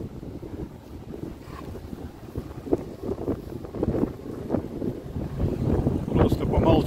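Gusts of wind buffet the microphone on a farm field with T-25 and MTZ-82 tractors, low, uneven rumbling that grows stronger toward the end, a voice partly buried beneath it.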